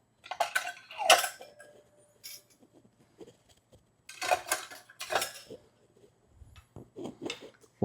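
Metal combs being fitted into a heavy-duty meat tenderizer and jerky slicer: scattered clinks, clanks and scrapes of metal parts, in short bursts with quiet gaps between them, close by.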